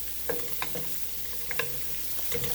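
Chopped garlic, onions and bratwurst sizzle steadily in a pan on a stovetop at medium-high heat, punctuated by the scrape of occasional stirring.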